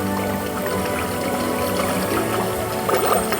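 Water fountain jets spray and splash continuously at Moana's Journey of Water in Disney World, a steady close wash of falling water with a brief surge near the end.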